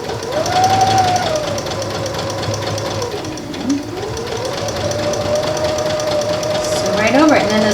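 A sewing machine stitches striped fabric straight over pins, its motor droning steadily and loudly while someone talks over it.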